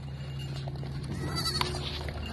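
Goats bleat faintly amid a low, steady background hum, with one brief, sharper call partway through.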